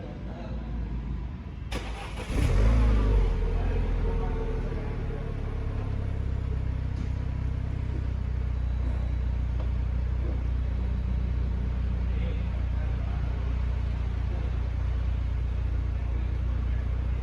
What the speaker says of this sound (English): a cold start for the DC Avanti